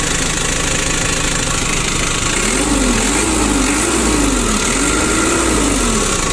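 Mitsubishi four-cylinder diesel engine in a two-tonne Japanese forklift runs loud and close, a steady, even idle with a rhythmic knocking chug and a wavering tone midway.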